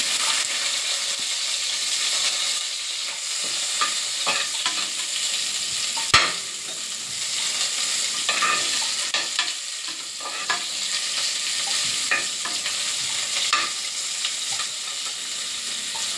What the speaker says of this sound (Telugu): బాగా వేయించుకోండి. బిర్యానీ కదా, కొంచెం రోస్ట్ చేసుకుంటే బాగుంటుంది.